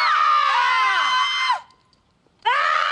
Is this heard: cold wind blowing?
no